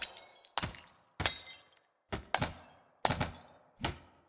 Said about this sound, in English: The nice glass sound effects here